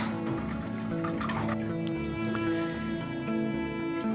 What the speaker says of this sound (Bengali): এই যে তেলটা ঢেলে নিচ্ছে, এই জিনিসটা ঠান্ডা করতে হবে।